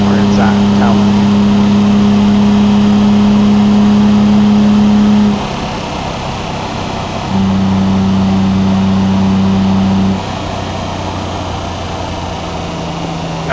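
A CEEPS modded engine in BeamNG Drive revs hard, holding a loud sustained tone, dropping to idle, then revving again for a few seconds before settling.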